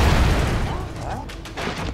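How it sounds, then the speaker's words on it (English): An explosion in the side-scrolling action video game Broforce, a loud low boom that fades quickly into rumbling debris. "There was an explosion in my face."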